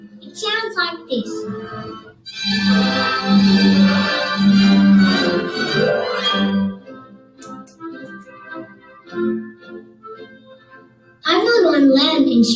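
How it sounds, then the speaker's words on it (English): The Sydney Youth Orchestra plays together in a sustained, full ensemble passage of layered tones lasting several seconds, with speaking voices just before and after. "An orchestra is a group of musicians that play instruments together."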